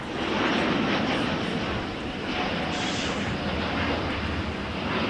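Latam Airways airliner heading out at LAX, a loud steady broadband jet roar holding throughout with a faint higher whine near the middle, no voices.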